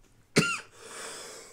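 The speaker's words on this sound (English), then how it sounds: "Sorry about the coughing." A single loud, close cough from someone who has been smoking weed, a sharp harsh burst followed by a rough tail and then quiet room noise.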